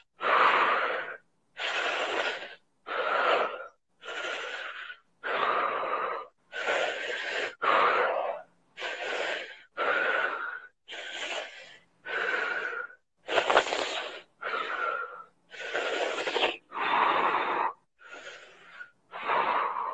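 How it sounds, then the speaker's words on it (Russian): Deep, loud breaths come one after another in a steady rhythm during a therapy session, each inhale and exhale rasping close and forceful with short gaps between. "А ну, дыши глубоко."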